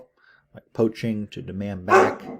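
Barks from a scared Doberman puppy sound indoors in the background, a few short yips and barks mixed in among a man's steady, louder speech.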